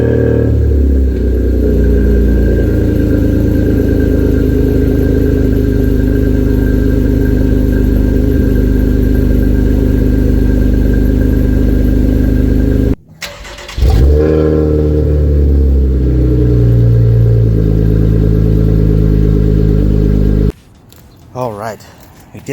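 A car engine with a newly installed exhaust X-pipe idles with a deep, continuous rumble, then revs in swelling surges after a brief cut, close and loud, with a second short break near the end.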